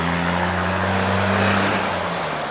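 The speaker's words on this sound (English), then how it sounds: "That loud ass trucks" Loud trucks roar past on a road, a heavy, steady rumble of engines and tire noise heard up close from inside a passing car.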